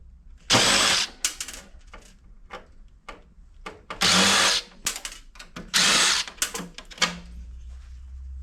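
A power drill backs screws out of a scrap server, the casing holding an aluminum handle and bracket. It comes in three loud, whirring bursts of about a second each, with sharp clicks and clatter between them and no talk.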